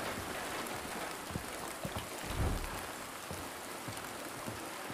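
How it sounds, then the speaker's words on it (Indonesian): Steady rain falls in the Silent Hill 2 Remake game world, a continuous hiss of drops on surfaces with a low rumbling swell midway, fairly quiet and alone without talk. "Ya, hujan, guys."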